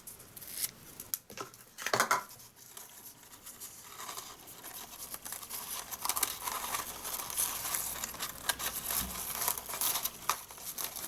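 Scissors snip through a length of ribbon being cut for a small bow on a wedding favour box, with crisp close cuts and crinkling handling noise, no talk.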